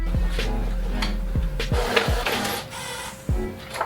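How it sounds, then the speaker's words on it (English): A printer printing a design for metallic-ink screen printing, whirring mechanically with a steady motor hum and sharp repeated clunks of the feed mechanism at uneven intervals, close and fairly loud with no talking. "my printer is doing this thing again"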